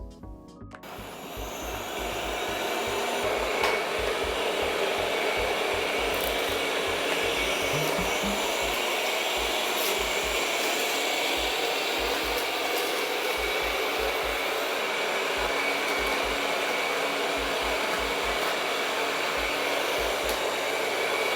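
A Roborock S7+ robot vacuum cleaner running, with a loud, steady whirring drone that holds for the whole stretch over a low, pulsing rumble, with no talking.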